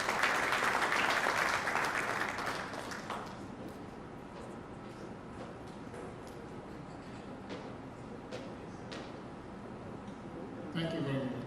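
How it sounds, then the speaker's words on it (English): Applause at a Lagos architects forum for the chairman of the Lagos State Appeals Committee, a broadband patter that starts loud, thins after a few seconds into scattered claps and murmuring, then briefly swells again near the end. "A round of applause for him."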